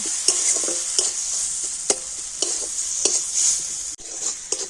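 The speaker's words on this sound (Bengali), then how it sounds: "সমস্ত মশলাগুলো আর একটু তেলের সাথে সব কিছু কষিয়ে নেব" Ground spices such as cumin powder cooking in oil for a potato dish, a loud continuous sizzle with regular scraping stir strokes about every half second to second, close up.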